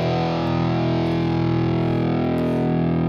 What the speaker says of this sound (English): So this is an envelope phaser.